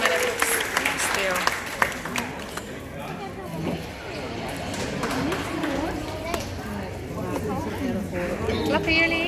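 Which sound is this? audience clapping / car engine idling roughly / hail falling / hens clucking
audience clapping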